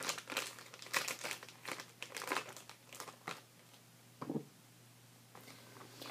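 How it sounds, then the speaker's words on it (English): A plastic zip-top bag crinkles and crumples in bursts as it is handled, with faint kitchen room noise between the rustles. "I'm just going to throw it into a Ziploc baggie"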